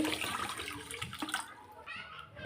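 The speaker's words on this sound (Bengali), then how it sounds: "দু কাপ চিনি দিয়েছি দু কাপ জল দেবো মিষ্টির শিরাটা আমি করে নেবো" Water is poured onto two cups of sugar to make syrup for a semolina sweet, a faint, brief splashing pour heard close up.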